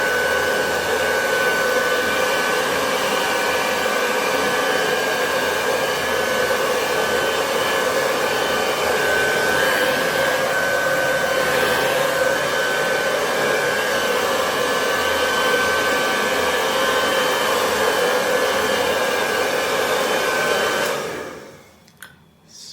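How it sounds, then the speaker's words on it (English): A handheld blow dryer runs steadily while drying hair, a loud close whooshing roar with a constant motor whine lasting about twenty seconds before it switches off near the end. "I'm just going to blow dry it"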